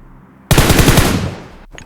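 A DBS shotgun in BGMI fires a sudden loud burst of rapid blasts, close and harsh, then trails off into a brief echo.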